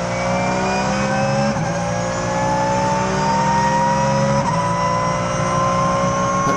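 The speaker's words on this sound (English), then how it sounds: "Identical Porsche GT3 Cup cars." Identical Porsche GT3 Cup race cars lap Zolder circuit in Belgium, their loud engines a continuous high droning whine that rises steadily through the gears, with a few gear shifts breaking the pitch.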